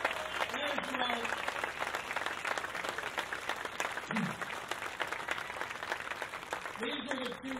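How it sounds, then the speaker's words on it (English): Loud, continuous crowd applause at a statue dedication program for Rocky Colavito, with a few voices calling out briefly over the clapping. "give these two an incredible round of applause"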